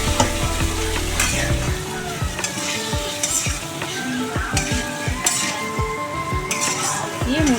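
Spice paste with garlic frying in a pan for a fish curry, a loud, steady sizzle under repeated rhythmic stirring strokes and scrapes of a spoon against the metal, close up and continuous.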